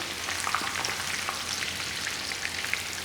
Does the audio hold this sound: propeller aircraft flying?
no